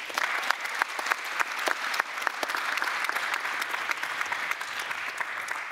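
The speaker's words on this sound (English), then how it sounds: "Let's have a big round of applause for the panel" An audience at a plenary conference panel on transport and poverty claps steadily and evenly, a dense round of applause with no voices over it.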